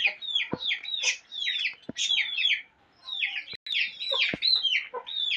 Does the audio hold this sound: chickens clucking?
yes